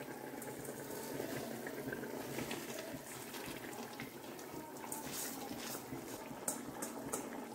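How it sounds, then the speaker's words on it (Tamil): Water for mutton biryani bubbles and churns at a steady rolling boil in a pot, a constant close gurgling with occasional louder pops. "பாருங்கள் எந்த அளவுக்கு கொதிக்குது பாருங்கள், அந்த அளவுக்கு நல்லா வந்து கொதிக்கணும்"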